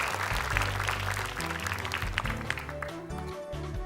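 Audience applause for team Ahmad at the Hafiz Indonesia 2026 opening, a continuous crowd clapping over a low, steady musical bed that carries on throughout.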